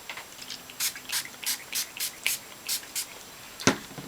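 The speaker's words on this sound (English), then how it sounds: "Give it a few more spritz" Quick short spritzes of hair spray misted onto hair while styling waves, about eight or nine soft hissing bursts in a steady rhythm, close and fairly quiet, ending with a louder rustle.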